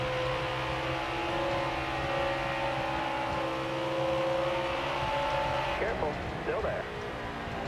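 Race truck engines in a Gander Outdoor Truck Series race at Las Vegas in NASCAR Heat 4 drone steadily under constant commentary, with a brief disturbance near the end.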